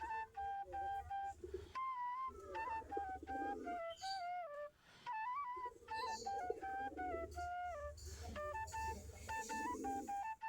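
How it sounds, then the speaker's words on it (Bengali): Native breed domestic pigeons coo softly inside their coop, low warbling calls repeating in bursts, while a loud electronic beeping melody plays over them. "আমাদের দেশি জাতের কবুতর, এই যে তিনটা দেখেন বসে আছে কত সুন্দর করে।"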